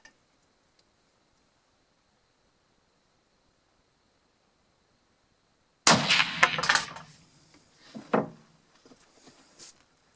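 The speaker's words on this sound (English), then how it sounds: "now I'm going to shoot again" A hunting rifle fitted with a red dot sight on a Contessa quick-detachable mount fires once while being zeroed in Marcheno, Brescia. A single sharp, loud close report breaks the silence and rolls off, followed by a fainter thump.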